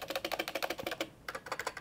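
Rapid, fairly steady keystrokes on a cheap ten-thousand-won computer keyboard with poor stabilizers, close and crisp, with a short pause before the clicking resumes.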